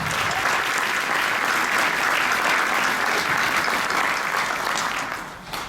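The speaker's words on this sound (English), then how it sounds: "Let's give her a round of applause." Steady, full applause from the audience at the Miss Gibbon coronation honors the outgoing queen, holding strong for several seconds before tapering off near the end.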